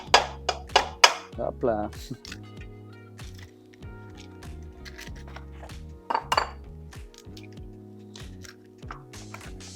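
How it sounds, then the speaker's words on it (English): Eggs cracked against a bowl for organic pasta carbonara, a quick series of sharp clicks and taps near the start with more clinks later, over steady background hum and a brief spoken word. "So let's crack some eggs."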